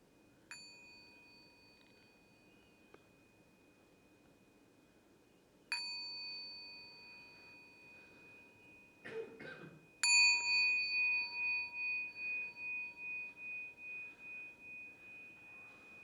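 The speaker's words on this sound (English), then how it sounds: "I'm now going to ring the gong 3 times." A meditation gong struck three times in a quiet room, each stroke a clear ringing tone with a long, slowly fading sustain; a faint rustle comes just before the last, loudest strike, which rings on with a gentle pulsing decay.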